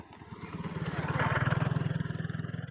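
A motorcycle passing by at night in a village street, its engine putting out a rhythmic pulsing drone that swells as it nears and stays close. A voice speaks briefly over it.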